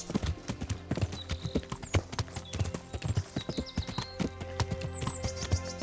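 Horse hooves clip-clopping in a steady trotting rhythm while riding in Kingdom Come: Deliverance, close and distinct over a layer of ambient outdoor sound with faint birdsong.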